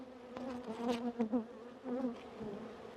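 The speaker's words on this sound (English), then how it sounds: "Once again, we have some bees in not a very good mood." Agitated bees buzzing close by around a hive, a few individual insects droning and swooping past in overlapping whines.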